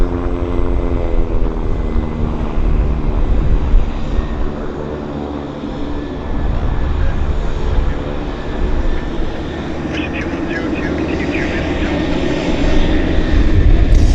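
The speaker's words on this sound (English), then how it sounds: "They're PT6 engines, I think." Loud, continuous droning roar of turboprop aircraft engines at an airport, with a steady propeller hum, close by and unbroken throughout.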